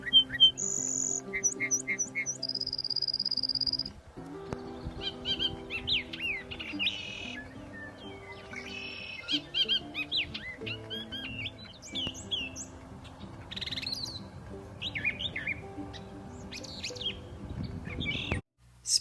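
Spring birdsong with several birds chirping and calling together, bright tweets and trills over a steady background, with a possible duck squawk; no one speaks.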